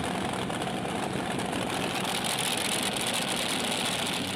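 A loud, steady pulling tractor engine roar drones continuously with a dense, rumbling texture, heavy and close, with no pauses or talk, at a Eurocup tractor pulling event in Brande, Denmark, machines exceeding 4,000 horsepower.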